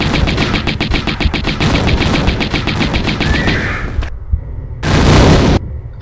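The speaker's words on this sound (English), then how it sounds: "That's when Lara starts shooting." Rapid gunfire as Lara shoots in the Tomb Raider game, a fast loud rattling burst lasting about four seconds, then a pause and a short second burst.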